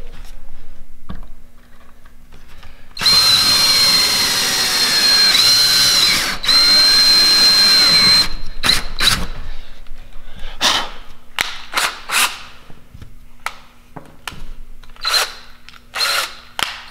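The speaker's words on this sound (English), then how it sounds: "drill a little pilot hole" A power drill drilling a pilot hole whirs loudly for several seconds, steady with a brief dip midway, then stops, followed by a series of short clicks and knocks.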